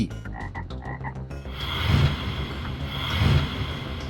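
A toad croaks in a quick run of pulsed, rhythmic calls, then low rumbling outdoor noise and wind take over.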